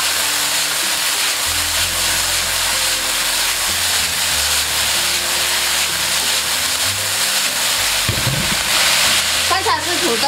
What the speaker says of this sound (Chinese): 倒入土豆丝以后，快速的把土豆丝翻炒